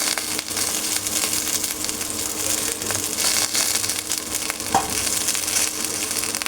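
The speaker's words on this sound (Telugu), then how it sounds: "చిన్న ఫ్లేమ్ పెట్టుకొని ఇలా వేయించుకోవాలన్నమాట." Curry leaves and coriander leaves fry in a pan over a low flame with a steady, dense sizzle and the occasional stir, close and loud with no voices.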